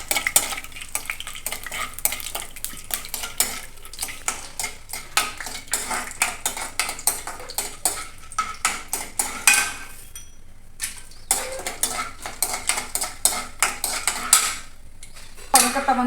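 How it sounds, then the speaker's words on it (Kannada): Roasted peanuts frying in oil in a pan, stirred with a metal utensil: rapid, continuous clinks and scrapes against the pan over a soft sizzle, close and busy, with no talk. "ಸ್ವಲ್ಪ ಫ್ರೈ ಮಾಡಿರಿ ಎಣ್ಣೆ ಒಳಗೆ."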